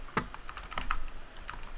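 Keys clack on a computer keyboard fitted with new keycaps, a quick run of close, crisp taps in irregular rhythm with no talking.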